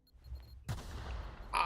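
Gunfire in the video game The Outer Worlds: a sudden blast breaks a quiet moment, followed by a rumbling burst and a sharper crack near the end, loud and close.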